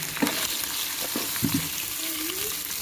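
Meat for Arabian mandi frying in a hot pan, a steady loud sizzle with occasional stirring scrapes and clatter, no voices.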